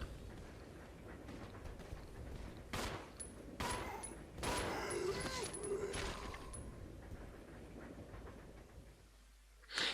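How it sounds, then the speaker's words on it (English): Scattered gunshots as Billy fires on zombies in the survival horror game Resident Evil Zero, several loud sharp reports spread across the stretch over a dark ambient bed, with a final burst at the end. "Billy started shooting at them"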